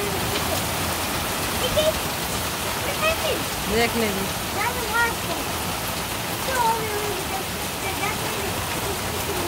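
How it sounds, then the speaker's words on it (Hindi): Steady rain falls with a constant hiss, with someone talking over it at times. "लेकिन बारिश देख रहे हैं आप,"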